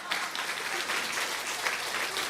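A church congregation at a Korean Sunday service applauds, a dense, continuous patter of many hands clapping at moderate volume, with no single rhythm emerging.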